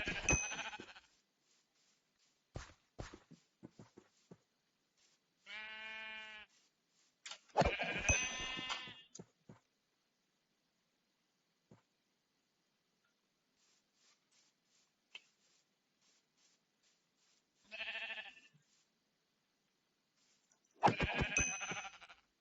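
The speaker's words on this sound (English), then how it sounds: "Just chatting and killing sheep." Sheep in Minecraft give a few short, wavering bleats in separate bursts, mixed with sharp game clicks and thuds against near silence.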